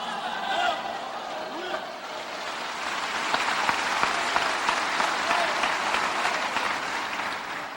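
Applause from a church congregation at an Assembléia de Deus service in Fortaleza, a steady broad wash of many hands clapping that holds at even strength for several seconds, with some voices mixed in.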